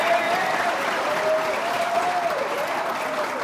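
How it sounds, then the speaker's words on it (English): An audience at a food choice and sustainability lecture gives a round of applause for the event organiser and his team, even sustained clapping throughout, fairly loud with a faint tone underneath. "One more round of applause for Dr."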